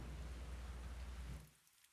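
Steady rain falls outside during a city storm in an audio drama, a soft continuous wash of hiss that carries alone, then cuts off abruptly near the end.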